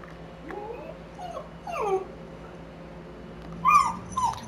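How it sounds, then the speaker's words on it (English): Pet dogs whine and whimper in short rising yips, a few high cries scattered over several seconds and growing louder near the end, with a faint low hum beneath and no talk. "I have very chatty dogs."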